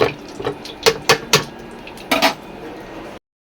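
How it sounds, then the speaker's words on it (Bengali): Water trickling and dripping from boiled taro leaves set to drain, with a few clinking utensil knocks in a home kitchen, close and moderately loud, ending abruptly. "এখানে জল ঝরতে দিয়েছি"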